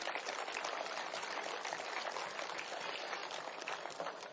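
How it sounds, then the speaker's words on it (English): Applause from the audience at the MXGP motocross season awards ceremony, a dense continuous wash of many hands clapping at steady loudness throughout, with no distinct voices. "Big round of applause"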